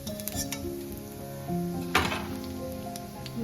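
Cumin seeds sizzle steadily in a hot frying pan on a lowered stove flame, a continuous crackling hiss with a sharper burst near the middle and faint clinks of utensils against the pan.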